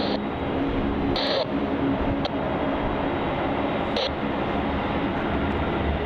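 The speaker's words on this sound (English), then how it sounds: "Bonza, which is now rolling down runway 27" A Bonza airliner rolls down runway 27 for takeoff, a loud continuous jet roar filling the whole stretch with steady broadband rumble, a few brief higher-pitched tones cutting in from a radio or scanner.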